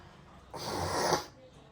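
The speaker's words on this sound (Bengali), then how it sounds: "নাক টানছো কেন" A person gives one short, breathy sniffle through the nose, fairly faint, alone in a quiet room.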